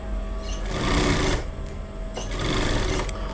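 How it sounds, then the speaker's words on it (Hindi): Sewing machine stitching a folded fabric frill for a top, whirring loudly and close in two bursts with a short pause between them, no talking. "सिलाई लगाएंगे इसके ऊपर"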